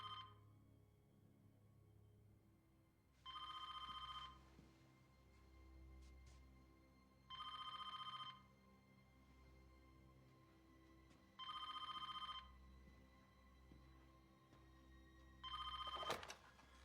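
A telephone rings four times in evenly spaced electronic bursts over a low steady hum, with no one answering.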